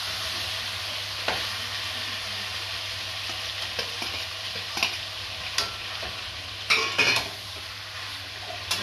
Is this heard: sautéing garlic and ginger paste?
yes